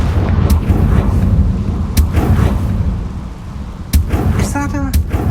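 Confringo fire spell blasts in Hogwarts Legacy, a series of sharp explosive cracks over a heavy rumbling bed, with a bright sparkling burst near the end.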